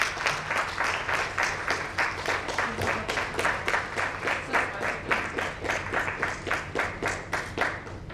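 Audience applause for Dr. Hiremath at a felicitation ceremony, a dense, steady round of clapping from a sizable crowd that carries on without a break for the whole stretch.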